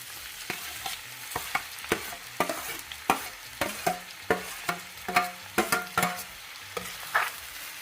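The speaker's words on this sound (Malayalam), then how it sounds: "എണ്ണ നല്ലപോലെ ചൂടായിട്ടുണ്ട് അതിലേക്ക് നമ്മൾ നേരത്തെ ചതച്ച് വെച്ചിരുന്ന ചെറിയ ഉള്ളി അത് ചേർത്ത് കൊടുക്കാം" Crushed small shallots frying in hot coconut oil in a clay pot, a steady sizzle broken by a dozen or so sharp, close scrapes and clacks of stirring at an uneven rhythm, with no talk.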